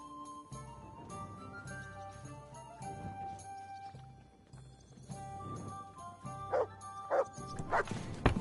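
A dog in the video game Kingdom Come: Deliverance II gives a few short barks and yips over soft tonal game music, quiet at first and then sharper and louder near the end.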